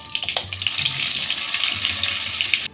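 A spoonful of butter melting into lightly heated oil in a pan gives a steady, close, bright sizzle and crackle that holds throughout and then cuts off abruptly.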